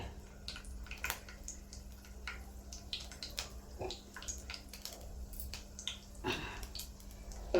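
Tempering spices splutter in hot oil for a potato and tomato curry, giving scattered sharp pops and crackles over a steady low hum, close and moderately loud.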